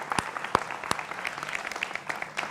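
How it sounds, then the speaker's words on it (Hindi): Studio audience at a televised political debate show applauding, a moderately loud patter of many hands with a few sharp nearby claps standing out, fairly sparse and uneven. "मेरे युवा मित्रों का यहां जोरदार तालियों के साथ अभिनंदन है"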